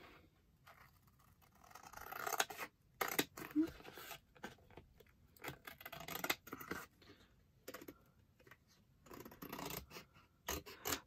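Scissors snipping through material at close range after a quick measurement to about five centimetres, a run of sharp, crisp cuts that come in irregular bursts with short pauses between them.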